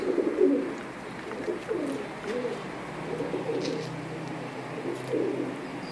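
Pigeons coo in soft, low, repeated throaty phrases against a quiet outdoor background.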